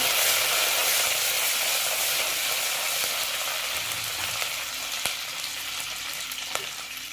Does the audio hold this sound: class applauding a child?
no